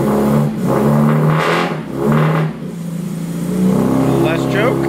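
A Mini Cooper S Mk 1 engine fires up for its first start and runs roughly, revving up and dropping back in uneven surges, loud and close, while someone talks over it.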